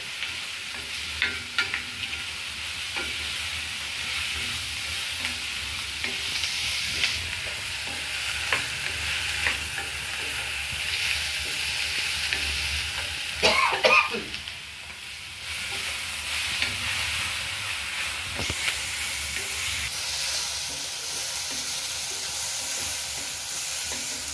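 Crushed ginger, green chili and onion fry in a pan for an Onam kootukari, giving a steady close sizzle with stirring scrapes and occasional louder crackles, with no talking.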